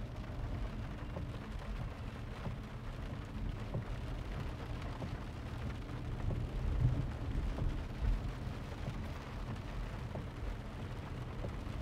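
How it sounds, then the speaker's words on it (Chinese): Heavy rain pours steadily during a thunderstorm in Zhongshan, a continuous broadband roar with a few louder swells and low rumbles, no talking. "都幾大雨下啦！"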